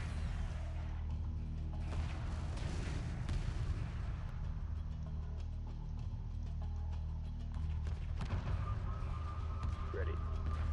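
Weapons fire in a Homeworld space strategy battle, with deep rumbling booms and bursts of gunfire layered over a low droning engine hum, under radio-style unit voice chatter.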